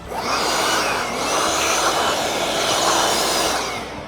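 A vacuum cleaner sucks up metal swarf left from drilling wafer head screws into a Stratco Good Neighbour gate, a steady loud roaring whine held close and unbroken, with no talking.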